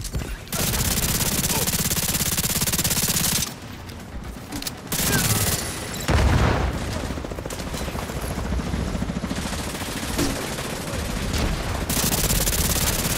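In The Division 2, an airburst launcher fires amid sustained automatic gunfire, loud dense bursts with brief pauses and rumbling impacts, and a faint voice breaks in now and then.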